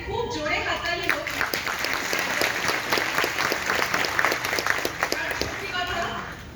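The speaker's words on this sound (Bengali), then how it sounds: "আর এই ডিরেক্টরের জন্য একটা খুব জোরে হাততালি হোক" An audience in a hall gives loud, steady applause for a film director, dense clapping running the whole time with a voice talking over it.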